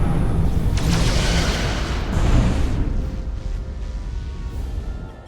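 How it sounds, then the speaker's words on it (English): Photon torpedoes fire from a starship in Star Trek: Resurgence as a loud, deep, booming launch blast, followed by a rumbling wash that slowly fades. "Fire photon torpedoes!"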